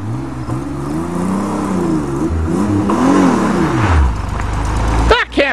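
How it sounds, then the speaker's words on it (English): A Pontiac Fiero V6 pulls away in first gear from nearby, its engine note rising and falling through revs before the car fades as it passes. "take off in first gear, then shift to second when you're going by me"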